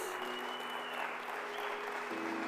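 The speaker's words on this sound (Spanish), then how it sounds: "Fuerte ese aplauso a Jesús" Church congregation applauding, a steady dense wash of clapping filling the room with a faint sustained tone underneath, continuous and fairly even throughout.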